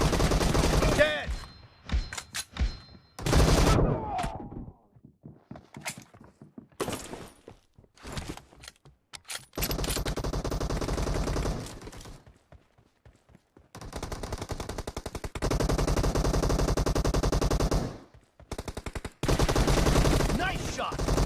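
Bursts of rapid automatic gunfire and single shots from an arena battle-royale video game, loud and close, alternating with short quiet gaps and mechanical clicks, with voices calling out over the action.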